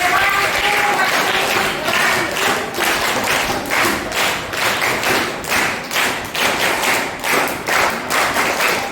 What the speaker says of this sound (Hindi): डॉक्टर जी के लिए जोरदार तालियां बजाइए।